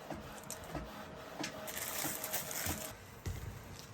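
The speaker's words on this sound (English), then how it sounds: "So we're just waiting now for Sunniva to come out of the printer" A printer runs while printing a design in a small studio, giving a busy mechanical whirr with repeated clicks and carriage knocks at a steady pace, fairly close and with no voices.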